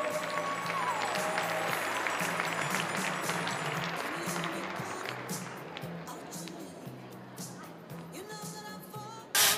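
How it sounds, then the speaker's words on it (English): Crowd at an NCAA gymnastics quad meet in Minnesota applauding an honorary team member, sustained clapping and cheering that gradually fades, with music faintly underneath. "Gopher fans, a big round of applause to honorary team member Jordan"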